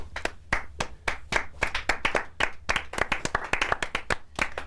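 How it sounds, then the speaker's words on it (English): Hand clapping from one person on a talk show set: a run of sharp, distinct claps in an uneven but steady rhythm, close and fairly loud, with no other sound beneath them. "Martin, clap."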